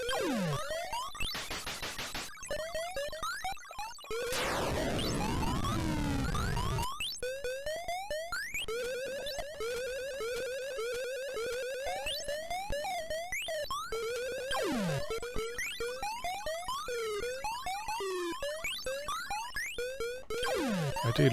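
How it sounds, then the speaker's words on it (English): Retro robot walking effect from the video game Mr. Robot and His Robot Factory, a steady stream of chirpy, bouncing electronic blips repeating in quick rhythm, loud and alone with bursts of noisier electronic tones between. "I do love his walking sound."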